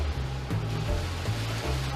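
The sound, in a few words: indoor waterfall in bunker pool area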